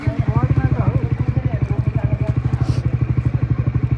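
A motorcycle engine thumps in a fast, steady rhythm, close and loud, while a voice talks over it.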